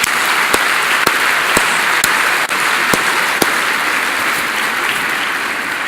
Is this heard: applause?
yes